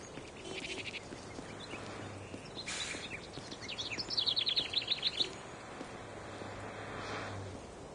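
A hungry sparrow in the city gives a quick run of high, bright chirps midway through, heard over a soft background hum with faint scattered calls before and after.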